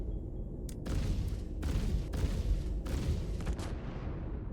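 Ship guns in Star Citizen hammer at a turret in several heavy bursts of booming fire, loud and close, over a continuous low engine rumble.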